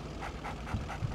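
A dog in the Red Alert 2 video game pants and whimpers softly, several rhythmic breathy pulses with a couple of low yips, fairly faint and close.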